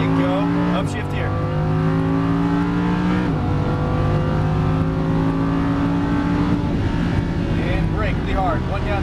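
A Lamborghini Huracan LP610-4 on a track roars under hard acceleration with rising engine tones, then drops through a downshift while braking, loud and close, as an instructor talks over it.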